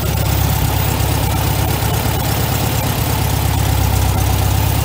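Old garage-stored car engine with a carburettor idling after a cold start, a steady loud rumbling idle close by with no talk.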